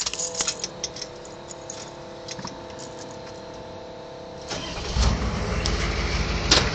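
A car's clutch throwout bearing groans with the transmission, a low steady hum under engine idle that grows rougher and louder partway through, with occasional clicks.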